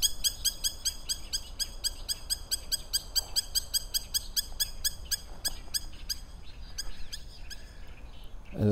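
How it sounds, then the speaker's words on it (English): A bird calls repeatedly at sunrise near an archaeological site, sharp rhythmic notes repeating steadily and fairly close against quiet outdoor background. "Now this is the bird"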